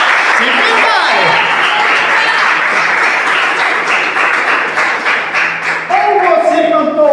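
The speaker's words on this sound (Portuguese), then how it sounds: "Palmas para Jesus, então." A church congregation claps for Jesus during a worship service, a continuous crackle of many hands with voices calling out beneath it, and speech emerging over the clapping toward the end.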